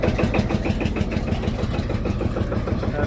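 Field Marshal vintage tractor engine at a traction engine rally, running with a steady loud chugging rhythm close by, no talk over it.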